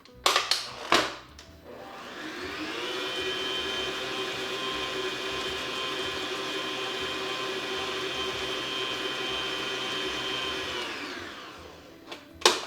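An electric mixer beats butter and sugar for gluten-free oatmeal raisin cookie dough, a steady whirring drone lasting about nine seconds after a few clunks, then switching off, with no talking.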